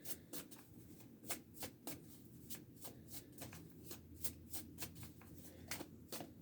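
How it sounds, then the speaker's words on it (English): An oracle card deck is shuffled by hand up close, making a quick run of crisp riffling snaps and soft slides at a fast, uneven rhythm. "I'm going to pull a little oracle deck here for you guys"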